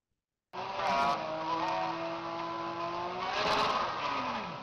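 Turbocharged Honda NSX launching hard on a drag strip, engine note climbing through a gear change and rising again, loud and sustained with no talk.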